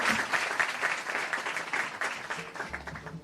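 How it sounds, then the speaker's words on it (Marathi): A crowd claps steadily and loudly throughout at a tribute event honouring mridang master Pandit Ashok Maharaj Panchal, with the dense applause holding an even level before easing at the end. "जोरदार टाळ्या झाल्या पाहिजेत."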